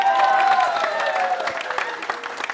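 An audience at a Brazilian variety show gathering applauds a man named Kiko as he stands, a loud, close burst of clapping that gradually thins and fades, with voices and cheering mixed in.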